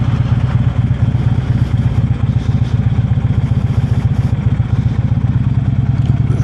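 A motorcycle engine runs steadily in first gear with the clutch slipped in the friction zone and no throttle, a loud, close, low rhythmic thumping and chugging that holds evenly throughout in a parking lot.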